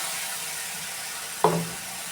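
Chopped tomatoes drop into a hot pan of frying paneer and onions, giving a single soft splash followed by a short burst of sizzle over steady background frying hiss.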